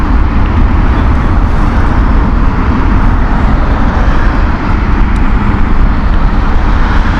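A fixed-wing airliner passes at Heathrow Airport, its engine roar loud, broad and steady throughout with no break, heard on its own without voices.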